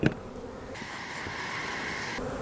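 Honey bees swarm and buzz at a hive, a steady close drone of many wings with a brief knock at the start.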